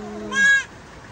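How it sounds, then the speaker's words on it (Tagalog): A single short, quavering native goat bleat rings out close and clear, fading quickly into quiet background. "Isipin mo ulit na itong kambing na to, itong native na to."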